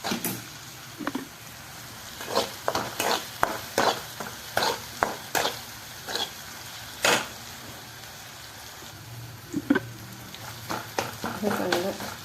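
Masala stir-fried with turmeric in a pan for egg chutney, with repeated quick spatula scrapes and taps in an uneven rhythm, close by, no talk.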